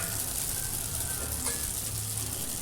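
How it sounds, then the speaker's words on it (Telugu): Semiya (vermicelli) upma stirred in a pan over a low flame: a continuous soft frying hiss with faint scraping of the spoon, steady and close, no voices. "సేమియాలకు పట్టేటట్టు మంచిగా మిక్స్ చేసుకోవాలి"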